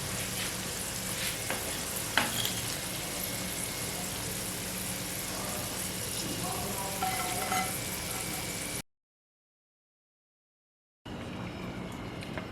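Crispy zinger chips frying in hot oil, a steady dense sizzle with scattered stirring clatter, loud and continuous for several seconds, then a short silent gap and the sizzle resuming.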